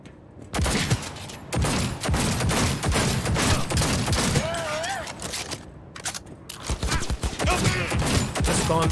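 Gunfire in Cyberpunk, loud close bursts of rapid shots in dense volleys with brief pauses, mechanical clacks between them, and someone talking over the shooting.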